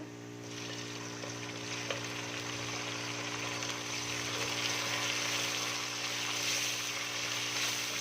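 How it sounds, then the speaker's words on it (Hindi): Tomatoes frying in a pan with lightly browned onions, a soft, even, continuous sizzle with a low steady hum underneath, fairly quiet and without talk. "तो अभी इसमें हम टमाटर डालेंगे।"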